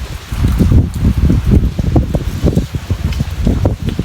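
Gusty wind blowing steadily outdoors and buffeting the microphone, a loud continuous rumble with rustling bursts throughout.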